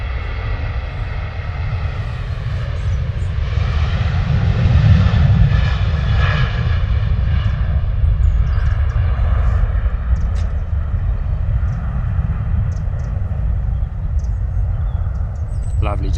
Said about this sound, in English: Lovely departure there from Ryanair.